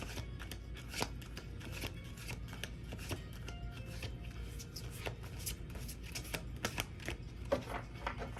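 Tarot cards shuffled by hand at close range, a dense run of crisp riffling snaps and soft slides that repeat steadily with no voices.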